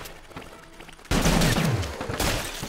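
Gunfire in the video game Rounds: after a quiet, scattered opening, a sudden loud burst of rapid shots erupts with a falling whooshing tone, followed by further close, punchy reports.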